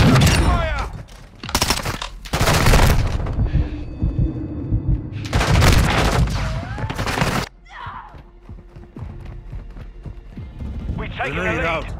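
Bursts of gunfire in a Call of Duty multiplayer match, loud, repeated volleys in dense clusters with game voice callouts and explosions between them.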